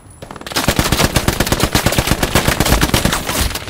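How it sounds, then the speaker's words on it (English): Machine gun fire in the World War II shooter Hell Let Loose rattles out as a loud, rapid, sustained burst of evenly spaced shots, close and continuous after a brief quiet opening. "Machine gunner finally got me, man."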